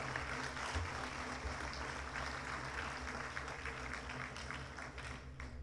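A crowd claps continuously at a school football assembly, a dense, even patter of applause with no voices on top.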